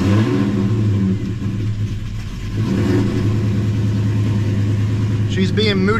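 A Ford Mustang Terminator Cobra engine runs loud and close with a deep, steady rumble and a slight rise in revs, while someone talks over it.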